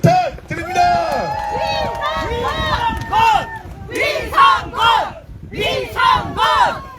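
A crowd at an outdoor campaign rally at the Seogwipo five-day market on Jeju cheers and shouts in rising, rhythmic waves, a dense roar of many voices close by.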